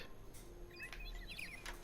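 Small birds chirp and tweet in the world of the video game Detroit: Become Human, a string of short bright calls over a steady low ambient hum, moderately near.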